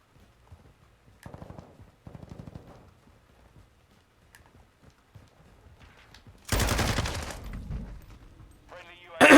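Gunfire in Modern Warfare II: scattered rapid bursts of shots, then a loud dense volley and a sharp final blast, with game chatter and voice lines in between.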